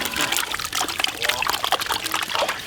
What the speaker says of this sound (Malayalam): മുട്ട ഒഴിച്ചു കൊടുക്കാം.